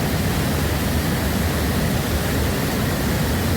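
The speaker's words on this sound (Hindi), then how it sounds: "वाटरफॉल का परिसर पानी के अविरत आवाज से भरा होता है।" Steady, dense roar of rushing water from a waterfall at Watkins Glen, New York, loud and unbroken throughout with no pauses or voices.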